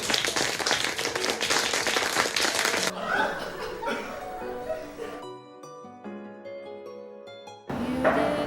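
An audience claps and cheers loudly for a few seconds to welcome a performer, then the crowd noise gives way to music, with a brief burst of applause returning at the end.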